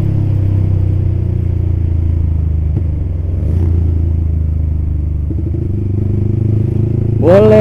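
A motorcycle fitted with an aftermarket Creampie exhaust idles with a steady, loud, close rumble, then revs sharply with a rising whine right at the end.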